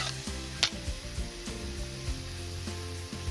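Steady sizzling of mushroom pieces frying in a pan, with occasional clinks and stirring scrapes close by.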